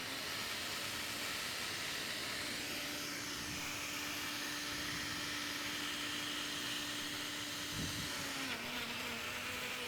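A Vitamix blender whirs through a smoothie at a state fair, a loud, constant high-speed roar with a steady motor tone that shifts slightly near the end.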